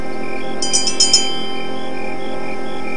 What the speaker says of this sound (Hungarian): Let me give this bell a ring and see if anybody's home.